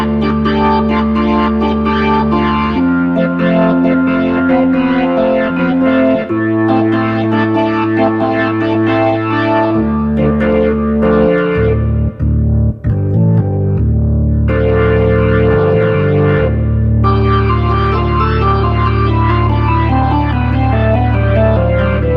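A distorted Hammond organ plays a loud, continuous passage of gritty sustained chords that shift every few seconds, filling the sound alone with no talking.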